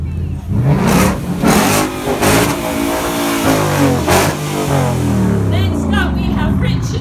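A Ford Mustang engine blips and revs repeatedly up close, harsh and loud, settling into a rumbling idle between bursts.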